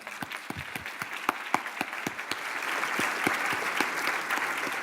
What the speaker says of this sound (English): I'd like to give him a warm round of applause for CSF.